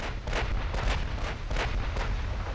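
Heavy naval gunfire from warship turrets in the naval combat game Ultimate Admiral Dreadnoughts, a series of loud booming shots over a constant low rumble, several blasts landing close together with no voices.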